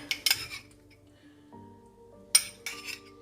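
A spoon stirs grated tomato sauce with salt, black pepper and olive oil in a bowl, making sharp clinks against the dish in two short bursts, close and clear, with a faint ringing tone between them and no speech.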